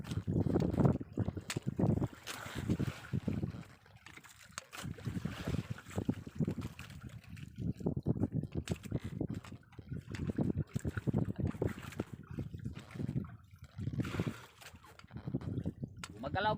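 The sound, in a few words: strong northeast monsoon wind at sea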